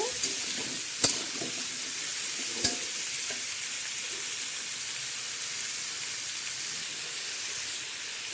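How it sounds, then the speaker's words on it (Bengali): Mixed vegetables fry with turmeric in a pan for a South Indian sambar meal, a steady close sizzle with two sharp clinks of a spoon against the pan and no voices. "ভেজে নেব"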